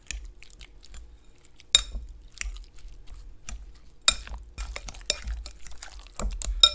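A spoon or fork mixes shredded Parmesan cheese with egg into lasagna dough in a bowl, giving intermittent close clicks, taps and scrapes against the dish with quiet gaps between them.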